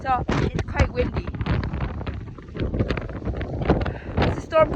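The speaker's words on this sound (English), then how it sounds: "Yeah, so it's quite windy." Strong Storm Amy wind buffets the microphone while someone rides a mountain bike outdoors, a loud, gusty roar rising and falling throughout, with voices speaking over it.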